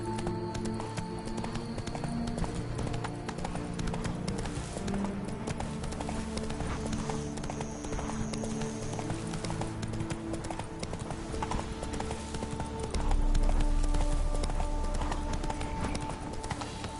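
Horse hooves clip-clop steadily in the Witcher 3 video game, a continuous galloping rhythm over a busy layer of in-game ambience and music, with a brief snort or whinny.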